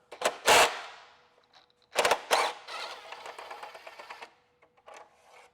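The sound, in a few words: ratchet removing 10mm bolts from Mini Cooper turbo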